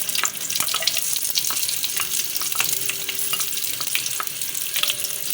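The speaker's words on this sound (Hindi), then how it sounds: "फ्राई पैन में मैं हल्का सा ऑयल ऐड कर रही हूँ और जो मैंने हरी मिर्चें और लहसुन लिया था इसको मैं हल्का सा फ्राई करूँगी" Green chillies and garlic fry in oil in a frying pan, a steady close sizzle with scattered crackles and pops and occasional stirring scrapes throughout.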